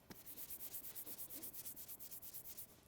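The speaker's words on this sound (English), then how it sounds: "if we go to the contaminated side right here, it'll sound like sandpaper." Clay bar dragged across contaminated car paint in quick, even back-and-forth strokes, giving a close, faint, rhythmic scratchy rasp much like sandpaper, with no talking.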